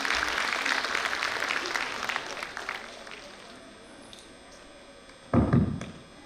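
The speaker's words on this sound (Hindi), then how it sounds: "तालियों के साथ स्वागत करिए" Audience applause welcomes a speaker onto the stage at a school annual day event, loud at first and tapering off over several seconds, followed by a brief thump near the end.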